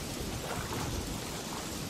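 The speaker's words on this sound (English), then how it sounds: "I remember, this is a scene where it rains" Steady rain with low rumbling thunder in a stormy scene from the Peter Jackson's King Kong video game, a continuous dense wash of noise with no talk.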